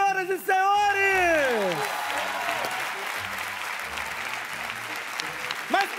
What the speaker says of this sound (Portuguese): Para de aplaudir!